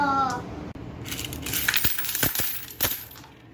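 Coins drop in a video game, a cluster of bright metallic clinks and jingles landing in quick succession, loud and close, with a short tone beforehand.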